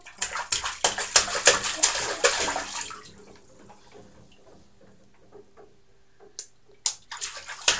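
Water sloshes and splashes in a bathtub around a toddler. A burst of busy splashing gives way to near quiet, then a few short splashes return close by.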